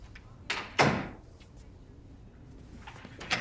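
A door opens and thuds as someone walks into a room in a TV comedy, a sharp close bang followed by a quieter thump, then faint shuffling and light knocks with no talk.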